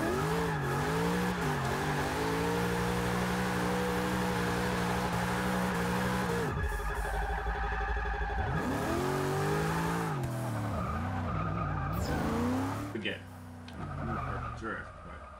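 A 2000 Nissan Silvia AWD drifts in a Forza racing game, its engine revving and wavering in pitch while the tires skid and squeal, dropping out briefly and then surging again before tailing off.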